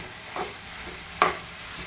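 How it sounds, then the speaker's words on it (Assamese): Soaked flattened rice (chira) being stirred in a pan over medium flame, with a faint scrape early and a louder sharp scrape-clatter later over a quiet background. "এতিয়া তিয়াই ৰখা চিৰাখিনি দি তাত ভালদৰে লৰাই দিব।"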